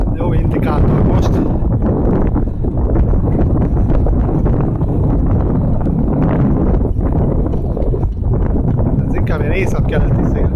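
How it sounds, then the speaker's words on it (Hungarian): Loud, steady wind buffeting the microphone during an outdoor bike ride in a northeasterly wind, a constant low roar filling the whole stretch with brief dips and some background rustle. "Észak-keleti szél."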